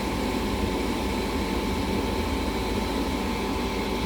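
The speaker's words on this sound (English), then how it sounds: "Inducer fan turns on." A furnace inducer fan on a home heating unit runs with a steady, moderately faint whirring hum and low drone, constant and unbroken, with no voices over it.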